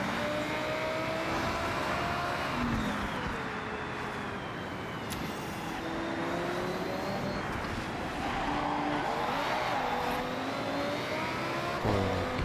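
A car drives through Tokyo in the video game Forza Horizon 6, its engine droning and revving continuously with tyre noise and shifting pitch, loud and close throughout with no talk.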